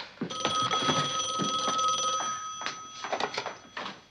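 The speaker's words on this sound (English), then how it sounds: "And if that phone call is for me," An old-fashioned telephone bell rings in a domestic room, a loud jangling trill lasting a couple of seconds, then breaking into shorter uneven rings as it trails off.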